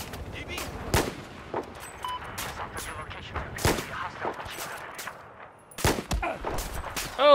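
Gunfire in a Battlefield 4 multiplayer match on PS4, with scattered loud single shots and short bursts at irregular intervals, some near and punchy, others softer, and a brief lull before a final flurry.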